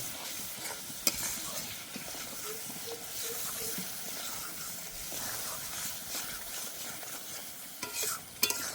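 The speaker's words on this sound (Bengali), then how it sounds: "এবার ভালো করে কষে নেব।" A ground spice paste with coriander powder is stirred and fried in a pan for a fish curry made without onion or garlic. Faint, steady sizzling runs under repeated scraping stirs, and a few sharper clinks come near the end.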